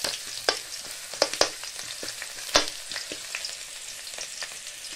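Onions sizzling and frying in a pan, a continuous close crackle broken by sharp spatters and a few stirring clicks, with no voices.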